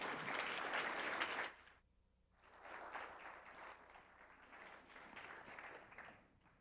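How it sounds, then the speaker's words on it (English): An audience applauds a symposium panel: a burst of clapping breaks off, then a second, softer and more distant stretch of applause follows, faint overall in a large hall. "let's give everyone a round of applause"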